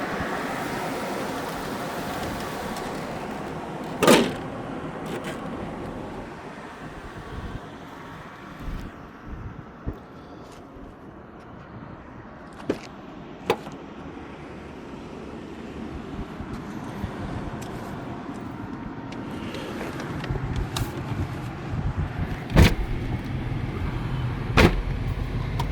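Inside a black 1999 Cadillac Eldorado coupe with redone head bolts on a short ride, the engine and road noise hum steadily, with wind rush and scattered clicks and knocks, no speech.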